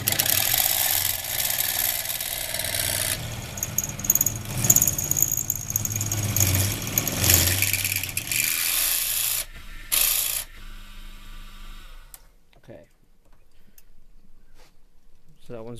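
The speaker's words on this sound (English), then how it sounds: "Now I'll drill the second hole." Milling machine drilling a hole in a model boiler part, its motor and cutting noise a steady, dense grind for about twelve seconds before winding down and falling quiet.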